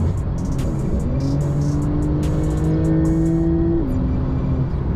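A 2023 Shark Blue Porsche 992 Turbo S accelerating hard, its engine note climbing steadily in pitch before dropping at a shift, loud and close from inside the car, with faint ticking on top.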